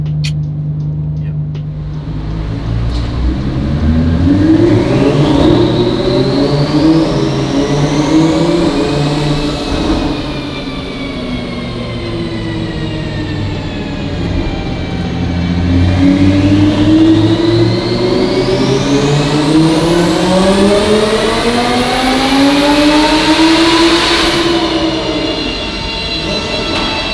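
A twin-turbo Audi R8 engine run on a dyno, revving in long loud sweeps that climb and fall twice, a strong harmonic engine howl rising in pitch with each pull, heard alone without talk.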